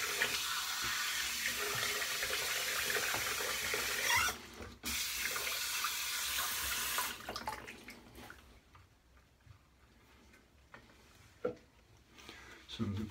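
A bathroom tap runs loudly and steadily into a sink, then cuts off, leaving quieter splashes and drips as a face is wetted for shaving. Someone speaks briefly.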